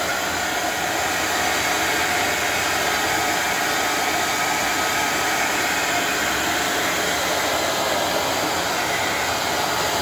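Heat gun blowing hot air onto a bearing case with a pre-lubed seal, a loud, steady, close-up fan-and-element roar held unbroken throughout with no voices.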